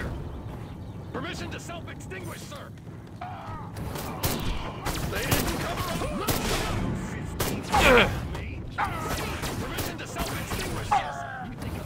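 Gunfire from the Destroy All Humans video game, with bursts of repeated shots hitting an enemy over rumbling effects while someone talks throughout.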